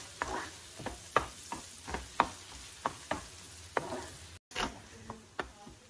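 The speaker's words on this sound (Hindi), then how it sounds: "प्याज को हम 2-3 मिनट भूनेंगे, हमको पूरा लाल नहीं करना है इसको" Onions fry in a pan for paneer bhurji, heard as a soft, quiet sizzle under a regular series of sharp scraping and tapping stirs.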